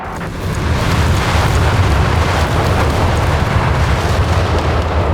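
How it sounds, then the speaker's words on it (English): Carpet bombing in Company of Heroes 3, a continuous loud roar of overlapping explosions and rumbling booms that holds steady throughout, with no talking. "Here comes the carpet bombing."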